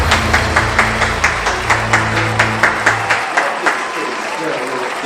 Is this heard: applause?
yes